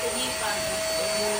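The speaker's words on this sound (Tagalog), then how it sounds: "Oh, nagba-vacuum po" A vacuum cleaner hums steadily in a condo, a constant droning whine running evenly through the whole moment at moderate volume.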